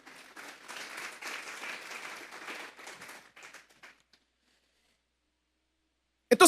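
Church congregation clapping in a moderate, fairly distant burst that thins out and stops after about four seconds, followed by quiet.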